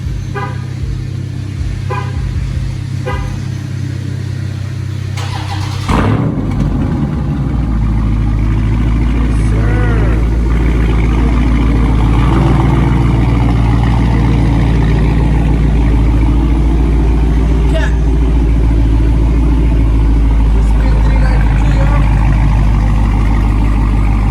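A Dodge Charger 392 Scat Pack V8 cold-starts, turning over and catching a few seconds in, then settles into a loud, deep, steady idle with a burbling rumble.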